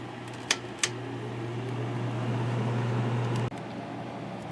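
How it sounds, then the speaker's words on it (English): A portable air conditioner or electric heater runs with a steady mechanical hum and fan whir, broken by a few sharp clicks as the setting is switched before the tone drops away. "The heater is actually louder than the air conditioner is on low."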